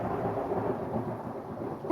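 Thunder from a major storm rumbles low and continuously under falling rain, a deep, steady roll that swells slightly at the very end, with nobody talking.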